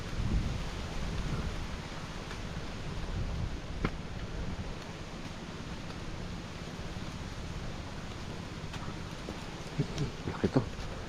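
Strong wind roars over rising waves at sea, a steady rumbling wash with gusty low noise and a few faint knocks near the end, and someone speaks briefly.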